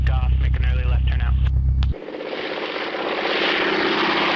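A small airplane on takeoff, its propeller engine droning steadily and building in strength for a few seconds right after a burst of radio chatter.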